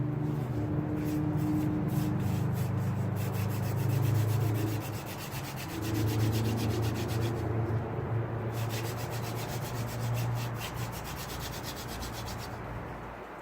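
A steady, rhythmic wooden rubbing and grinding as a wooden hand drill spins back and forth on a fireboard to make friction fire, continuous and close, with no talking.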